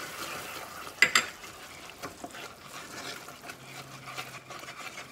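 Hot caramel corn mixture with baking soda and vanilla just added, stirred off the heat: a sharp scraping clatter near the start, then soft wet stirring and faint sizzling that continues quietly.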